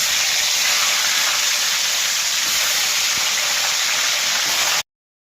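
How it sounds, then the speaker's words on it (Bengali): Cauliflower pieces fry in hot oil, giving a loud, steady, dense hiss that continues without pause for nearly five seconds before stopping suddenly, with no voices. "কপিটা ছাড়া হচ্ছে তেল গরমে।"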